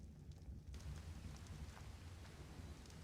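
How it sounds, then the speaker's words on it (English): Steady rain falls in the survival video game Ark, a dense, even hiss that swells in after a brief quieter moment and continues without talk. "and now it's raining, and the sky was flickering for a second there."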